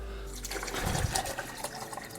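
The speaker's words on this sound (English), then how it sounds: "So next step is to pour in the hot." Hot water poured into a container to dissolve crystal-growing solution, a short close splash and trickle of liquid filling the vessel, alone without talk.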